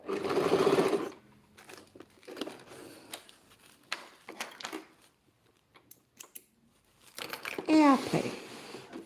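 A sewing machine stitches the hem of a silk chiffon handkerchief: a short, close whirring run opens, soft fabric handling and scattered light clicks follow, then another brief machine burst closes.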